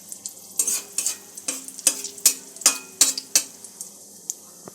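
A dried red chili and whole spices fry in a pan over a low-to-medium gas flame, with a steady soft sizzle punctuated by a dozen sharp clinks and scrapes of a spoon stirring against the metal.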